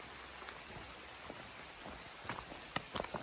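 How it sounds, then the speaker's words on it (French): Rain falling steadily during a hike in the Jura mountains, a soft, continuous patter with a few sharper drops striking nearby surfaces toward the end, no voices. "C'est vrai qu'il pleut bien quand même là."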